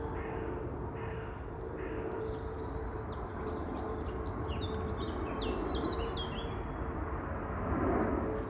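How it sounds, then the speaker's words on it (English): Birds sing and call in ancient bluebell woodland at Kew Gardens, scattered chirps and tweets over a steady low rumble of distant background noise. "you can still hear the bird song"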